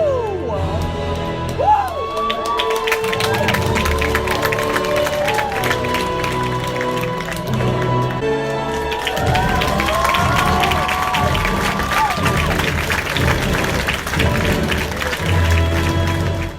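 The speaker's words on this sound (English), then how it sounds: "I was expecting more applause and stuff, but there was some applause." Crowd at the Avengers: Endgame premiere cheering, whooping and applauding loudly and continuously, with shouts rising over a dense wash of voices and music-like tones throughout.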